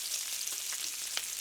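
Bacon sizzles in a pan with a steady, dense hiss dotted with small crackling pops, close and continuous throughout.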